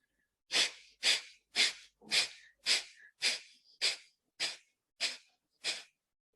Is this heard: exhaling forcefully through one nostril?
yes